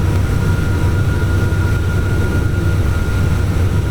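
Aircraft engines held at takeoff power in a flight simulator, a loud, steady, unbroken drone with a deep low rumble and a constant whine running through it.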